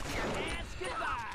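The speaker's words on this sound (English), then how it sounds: "I'm taking a lot of gunshots, but I don't care." Continuous gunfire in The Punisher (2013) video game, Challenge Mode: dense, overlapping shots form a loud, steady barrage lasting the whole moment, with a voice faintly present beneath it.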